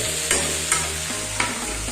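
Potatoes stir-fried in a pan give a continuous, close sizzle, with three light metallic taps of a spatula and a low steady hum underneath.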